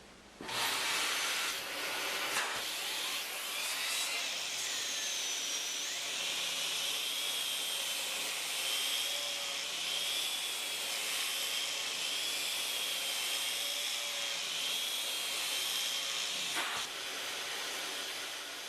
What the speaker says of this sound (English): We'll see how the vacuum does picking this up